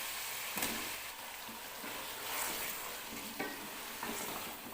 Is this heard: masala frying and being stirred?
yes